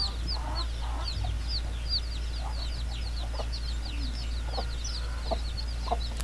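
Three hens cluck softly and repeatedly with scattered higher chirps, probably from chicks, over a constant low hum, with no speech.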